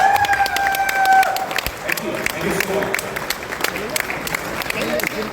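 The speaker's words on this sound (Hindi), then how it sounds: "तो आप चाहें तो हमारे कुछ नए भाइयों का स्वागत कर सकते हैं, हमारे पुराने भाइयों का।" Audience applause greeting leaders coming onto the stage at an event function in Thailand, a steady wash of clapping and crowd noise filling the whole stretch, with a brief tonal sound near the start.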